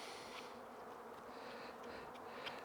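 Honey bees buzz continuously around an open hive while a beekeeper lifts out a food frame during an inspection, producing a steady, faint swarm hum with no talking.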